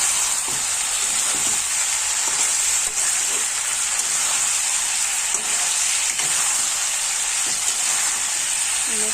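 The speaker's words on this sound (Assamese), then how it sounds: "অলপ ভাজা গ'লে ভাল হ'ব।" Whole garlic cloves fry in hot oil in a pan with a loud, steady sizzle that holds without pause, and a few faint stirring knocks sound underneath.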